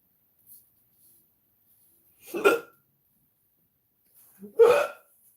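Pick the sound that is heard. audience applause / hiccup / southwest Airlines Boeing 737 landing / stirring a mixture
hiccup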